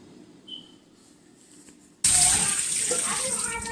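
Brussels sprouts rinsed under a running kitchen tap: after a quiet start, a loud steady gush of water begins abruptly and continues close and constant to the end.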